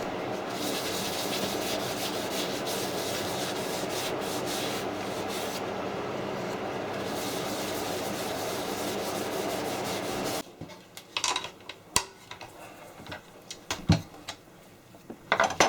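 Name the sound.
wood lathe running while buffing an oak pot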